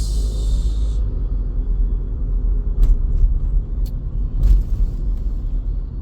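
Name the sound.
bus passing on the left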